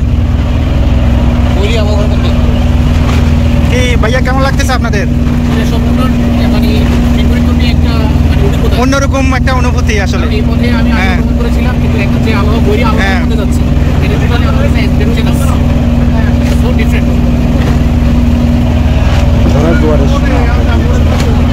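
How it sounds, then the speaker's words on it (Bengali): A trawler's engine drones steadily as the boat pushes along a river in strong wind and rough tide, loud and continuous under people chatting aboard. "ট্রলার এগিয়ে চলছে উড়িষ্যার উদ্দেশ্যে।"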